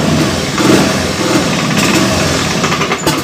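A Honda Beat FI motorcycle engine runs loud and close, revving rough and uneven with a sputtering, faltering note as the throttle is opened.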